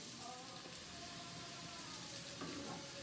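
Onion and chestnut sauteing in a pan for Baku plov, a dense steady sizzle like light rain, close and continuous, with faint talk in the background.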